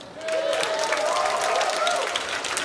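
School assembly audience cheering and applauding at a Sweetheart's Assembly, a steady loud wash of crowd noise with a high sustained whoop running through it, filling the whole moment without pause.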